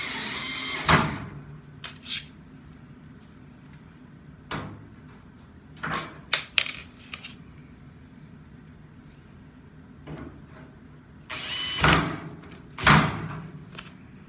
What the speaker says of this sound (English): Alright, now we're putting the bolts back in.